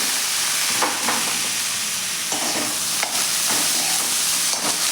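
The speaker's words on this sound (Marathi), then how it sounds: "गवार आपण 1 ते 2 मिनिट छान अशी वाटणामध्ये परतून घेऊया" Cluster beans (guar) stirred and frying in a ground spice masala paste over medium heat, giving a steady close sizzle with a few scraping stirs of a spoon.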